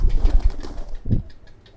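Pigeons at a bird market give a short burst of wing flaps and soft coos close by, with a brief pause before a final low call.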